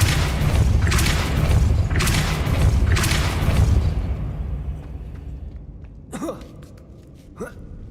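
Depulso force spell cast in the Hogwarts Legacy video game, a loud booming blast with a rumbling wash that fades out over several seconds, followed by two short, lighter magical whooshes.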